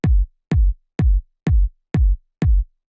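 A simple progressive house kick drum thumps six times at a steady, even pace, each hit punchy and booming, heard alone with nothing else.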